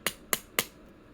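Three sharp, evenly spaced taps of a rawhide mallet or chasing hammer on metal ring out close and crisp, then silence.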